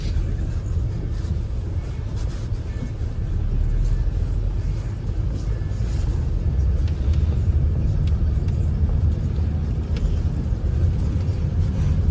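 A heavy tractor engine rumbles steadily and loudly close by, a constant low drone with no pauses, idling nearby.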